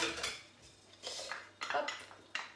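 A small metal teaspoon scoops thick coconut oil from a jar, giving several quick, close clinks and scrapes in irregular bursts with quiet gaps between.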